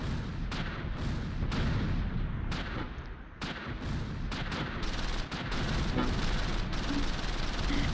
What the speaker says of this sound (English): Drop mortars on them. They're landing short though.